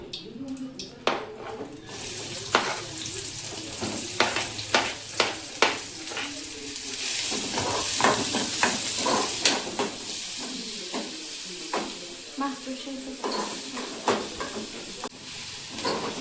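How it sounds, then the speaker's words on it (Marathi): Chopped onion fries in hot oil in a pan for noodles, giving a steady close sizzle broken by repeated sharp clinks and scrapes of a spoon stirring against the pan. "सो गाईज, आपला ऑनियन हा भाजत आहे."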